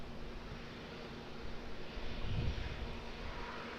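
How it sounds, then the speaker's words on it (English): Malaysia Airlines airliner approaching Auckland Airport over the New Zealand coast, a faint distant jet engine rumble that swells slightly midway and stays low and steady. "Malaysia Airlines about to come over the coast of New Zealand"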